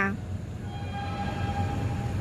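A special excursion train rumbles steadily as it pulls into a Thai railway station, with a sustained horn-like tone ringing over the low mechanical noise, moderately distant.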